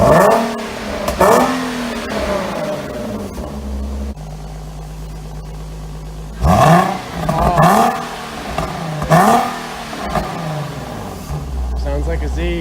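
A Nissan 370Z with test pipes installed and the muffler still on revs in several loud, sharp bursts with quieter idle between them. Voices talk around the revs.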